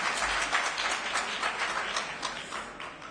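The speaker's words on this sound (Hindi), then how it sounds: "मेरी बात अच्छी लगी हो तो मेरे लिए भी ताली बजा दीजिएगा" Audience applause at a political party rally, steady dense clapping from a crowd throughout, fairly distant and even, with no speech over it.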